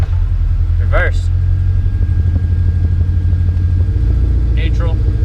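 A 1957 Ford Fairlane with a swapped-in Coyote engine idles steadily with a deep, continuous low rumble, and a couple of brief high squeaks rise above it.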